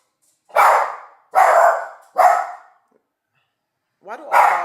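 Dogs bark loudly and close by, three sharp barks in quick succession, a pause, then another yip and bark, with silence between.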